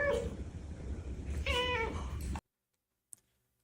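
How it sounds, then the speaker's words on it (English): A pet cat meows loudly and close by, two drawn-out calls in quick succession, followed by silence and a faint click. "This cat that I have right here."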